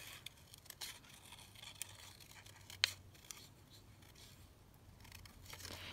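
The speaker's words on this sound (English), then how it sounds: "so I'm just going to cut this out" Scissors cutting a green paper label out for a craft project, quiet crisp snips with light paper rustling and one sharper click, close and faint with no talking.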